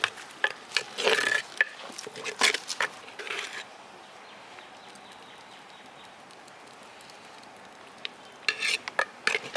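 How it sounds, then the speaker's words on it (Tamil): Palm jaggery pongal being stirred in a pan, heard as bursts of close spatula scraping and clatter at the start and the end, with a quiet bubbling hiss in the lull between them and no speech. "சம்பல்கான் அப்படியே கிண்டிக்கிட்டே இருங்க"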